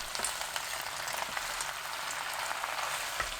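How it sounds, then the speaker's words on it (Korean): Spinach and clams are stir-fried together over high heat, a dense, even sizzle with faint crackles and small ticks, close and steady, with no speech. "바지락 잎이 다 벌어지면 시금치, 고운 소금 3분의 1큰술 넣고 센 불로 볶아주세요."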